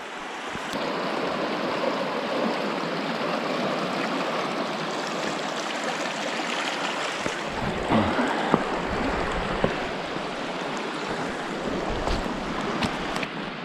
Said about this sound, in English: And a real creek.